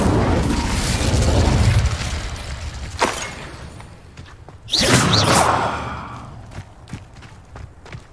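Confringo and Incendio spells from Hogwarts Legacy go off as a sharp blast followed by a louder whooshing fiery burst, then trailing pops and cracks.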